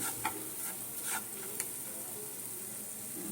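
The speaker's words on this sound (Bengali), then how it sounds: "সুজিটা দিয়ে একটু নাড়িয়ে নেব" A spoon scrapes and stirs through semolina dry-frying in a pan, with a few sharp clicks over a faint, steady sizzle.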